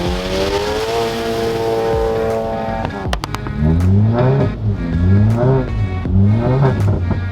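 A big-turbo VW MK7 GTI accelerating through snow, engine rising in repeated revving sweeps through the gears, loud and close, with brief clicks and sharp noises around a shift midway.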